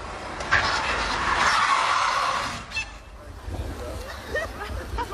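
A rally car driven by Jean Ragnotti handbrake-spinning into a parking spot, a long loud tyre screech with engine noise that fades into crowd chatter and voices.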